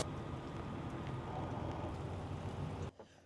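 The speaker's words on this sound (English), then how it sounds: "this rain, it started pouring down, raining on the way here" Heavy rain pours down in a dense, steady hiss and roar for about three seconds, then cuts off abruptly, with no voices over it.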